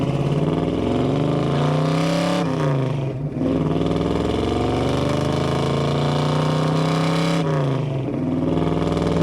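A 1967 Plymouth Barracuda Formula S with a 340 V8 and aluminum heads pulls hard through the gears, its engine climbing loudly in pitch, dipping at each of two quick shifts, then winding up again, close and without talk.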